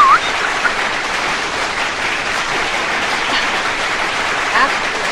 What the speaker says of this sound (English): So please stay tuned and listen to the applause.